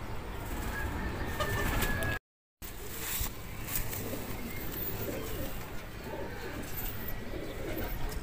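Pigeons caught in blue and yellow nets coo softly outdoors in repeated low calls over steady background noise, with a brief dropout partway through.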